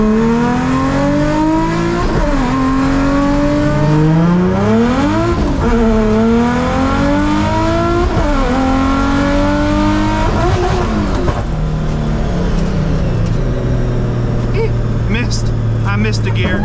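A boosted Nissan 350Z race car engine roars loudly and close, its pitch climbing through each gear and dropping at every shift, including one missed gear, before settling to a lower steady drone.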